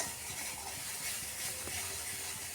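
Masala spices sauté in a pan over medium heat, giving a soft, continuous hiss with faint scraping underneath, steady and fairly quiet throughout.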